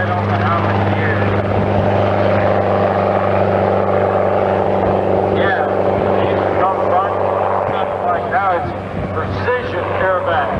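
A small Pitts aerobatic tail-dragger biplane passes at an air show, its propeller engine droning loud and steady with a strong low hum, while spectators talk nearby.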